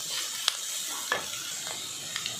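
Capsicum masala being stir-fried in a pan, a soft steady sizzle with a few light scrapes of a spoon, close and quiet, no voices.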